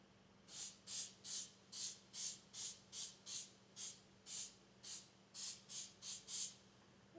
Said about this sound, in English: All I have to do is spray this and it has the flour mixed in already.